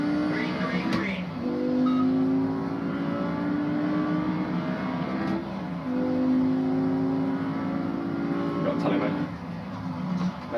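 A car engine in a driving game played on a Logitech G920 wheel revs up in repeated rising pulls, each cut off by a sharp gear change, fairly loud with a steady hum beneath.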